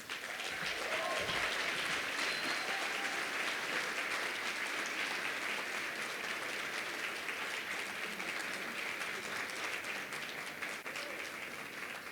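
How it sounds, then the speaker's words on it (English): Sustained, even applause fills a gala hall for the ensemble after their gentle performance. The crowd claps steadily and evenly from start to finish, with no speech over it. "Give them a round of applause."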